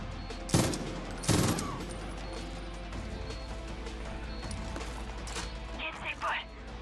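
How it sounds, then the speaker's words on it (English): Gunfire in the video game Far Cry New Dawn as chain locks are shot: two loud, sharp shots close together near the start, then a steady low game rumble with a few later metallic clinks and rattles. "Shoot the chain locks."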